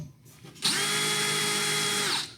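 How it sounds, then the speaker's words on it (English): A power drill bores into sheet metal, its motor spinning up to a loud, steady whine that holds for nearly two seconds before winding down, close by with no talking. "and then when you go to drill"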